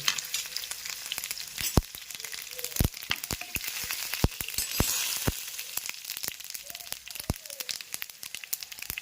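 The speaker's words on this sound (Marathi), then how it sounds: "आणि मग टाकणार आहोत आपण त्यामध्ये पांढरे तीळ" White sesame seeds sizzle in a hot oil tempering with cumin and green chillies, giving a soft hiss dotted with many sharp, irregular pops and crackles, close up and with no talking.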